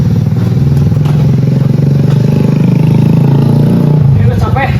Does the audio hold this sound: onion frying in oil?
no